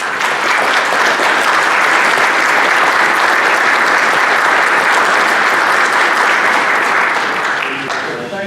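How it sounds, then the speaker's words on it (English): Attendees at a town deliberative session in Swanzey give a loud, sustained round of applause, a dense even clapping that holds for several seconds and then thins out near the end. "if you would give these folks a good round of applause"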